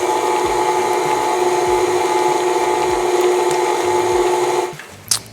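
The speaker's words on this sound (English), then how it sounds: "Now we're going to beat this until it just comes together." An electric mixer beating cookie dough with vanilla runs at a steady loud whir with a constant tonal hum, close by, then cuts off near the end with a brief clatter.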